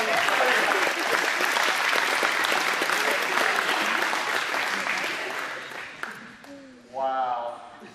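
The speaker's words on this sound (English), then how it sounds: "Ladies, gentlemen, give them all a round of applause from the audience." A large audience applauds loudly and steadily for about six seconds, then the clapping fades and a voice begins speaking near the end.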